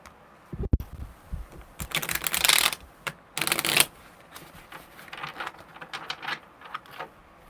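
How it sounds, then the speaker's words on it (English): Tarot cards are shuffled by hand in several bursts of crisp riffling and flicking, loud and close, separated by brief pauses and lighter tapping between. "Very different shuffling these."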